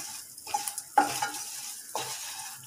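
A mixture for wheat halwa is sautéed and stirred in a pan: several sharp scraping strokes of a spoon on the pan over a soft sizzle, close by, with no talk.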